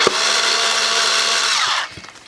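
Power drill driving a screw into a scale crawler truck wheel, a loud high whine that runs steadily for under two seconds, then winds down and stops, followed by faint clicks.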